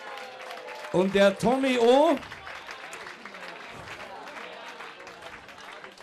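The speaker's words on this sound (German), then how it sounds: "begrüßen Sie mit einem Riesenapplaus den Tommy O." An audience at a spring festival of SV Südwest Ludwigshafen applauds in a steady, moderate patter after a brief spoken announcement, continuing for several seconds.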